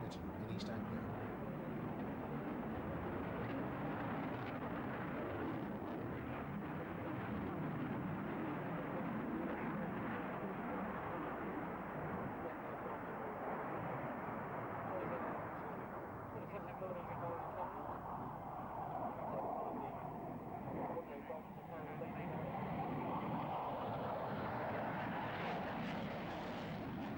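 A Panavia Tornado jet of 45 Squadron roars past at the 1991 Finningley air display, a long loud rumbling engine wash that swells and fades continuously, with an announcer talking over it.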